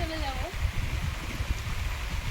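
Heavy rain falling outdoors during evening cooking, a constant rushing hiss with low splashing, close and steady, partly under a person talking.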